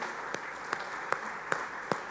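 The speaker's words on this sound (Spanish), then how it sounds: "¿Por qué no le damos un aplauso a los que están conectados del otro lado?" Five slow, evenly spaced claps ring out one at a time in a church sanctuary during a service, fairly faint with a quiet room tone between them.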